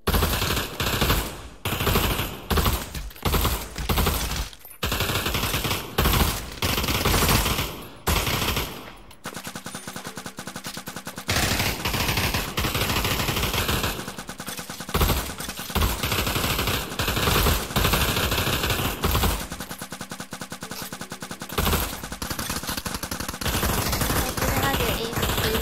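Automatic rifle fire in the VR shooter Pavlov VR, with repeated bursts and single shots that stop and restart, loud and close, and players talking between the volleys.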